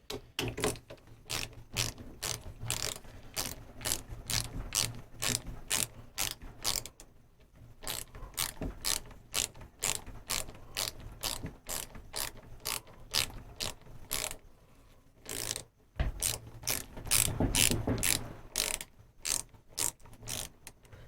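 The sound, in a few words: ratchet clicking while rebuilding bicycle fork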